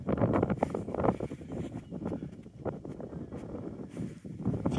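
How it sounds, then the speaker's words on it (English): Steady wind gusting across the open frozen Bay of Quinte during a perch ice-fishing outing, a broad continuous roar buffeting the microphone with uneven surges and no talk. "So definitely another windy day out here."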